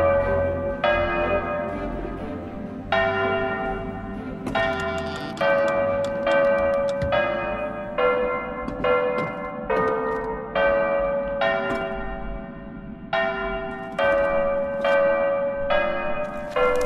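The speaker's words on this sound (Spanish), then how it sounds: "Tengo que tocar como las campanas o este." Bells ring out in the video game Datura, a sequence of struck bell tones repeating in an irregular rhythm, fairly loud and resonant, with each strike decaying into the next and no speech over them.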